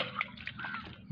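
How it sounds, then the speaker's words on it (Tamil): Water is sprinkled onto soil in a quick, faint burst of soft patters and splashes lasting about a second, with no talking. "தண்ணியை தெளிக்க போகிறேன்."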